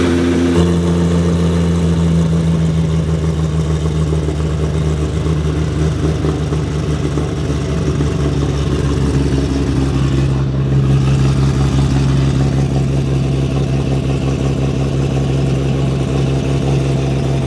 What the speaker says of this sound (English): It sounds way better with the exhaust with the valve open, mate.